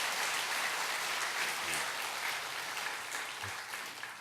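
Church congregation applauding after a prayer during a Korean worship service, a steady wash of many hands clapping at moderate distance, slowly fading toward the end.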